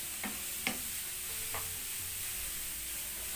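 Vegetables and khlii, a salty Moroccan dried preserved meat, stirred in a frying pan, with a steady sizzle broken by three short utensil scrapes or clacks.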